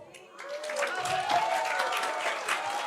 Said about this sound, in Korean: Veo a muchas personas que nos están aplaudiendo